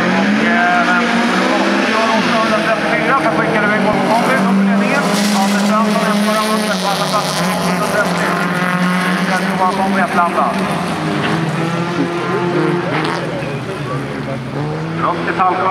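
Folkrace cars race around a dirt track in a heat at Vimmerby, with loud, continuous engines revving close by and a commentator talking over them throughout.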